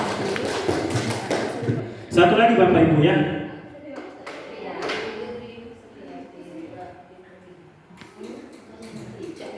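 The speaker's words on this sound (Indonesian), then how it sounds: "Kita beri tepuk tangan lingkaran." A roomful of adults in a community learning session claps together in a circle clap, a dense burst of hand claps lasting about a second amid ongoing talk and voices before and after.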